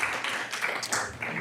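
Brief burst of hand clapping from attendees at a Sacramento school board meeting, a dense patter of claps lasting just over a second, moderately close.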